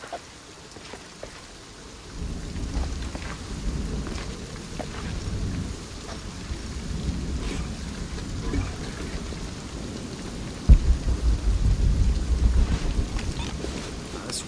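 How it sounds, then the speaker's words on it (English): A thunderstorm with rain in the video game Shadow of the Tomb Raider: a steady wash of rainfall, with a heavier rumble of thunder building in the last few seconds. "This storm is coming in quick."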